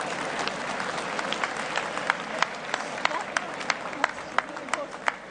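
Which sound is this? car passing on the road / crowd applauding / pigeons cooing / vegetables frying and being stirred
crowd applauding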